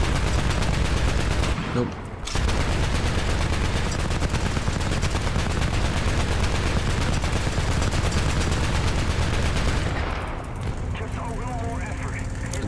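Tank machine gun in War Thunder firing in a long, loud, unbroken burst after a brief pause near the start, until it overheats and stops, with someone speaking briefly.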